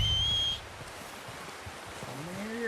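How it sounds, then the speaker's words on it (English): A short two-tone whistle for a horse in Red Dead Redemption 2, clear and fairly close over faint outdoor wind, followed by quiet ambience and a soft rising call. "Whistle for your horse"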